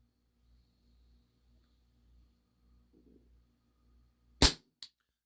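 A WE Tech Bulldog 6mm gas blowback airsoft pistol fires one sharp, loud, snappy shot, followed moments later by a smaller second crack, against an otherwise near-silent background.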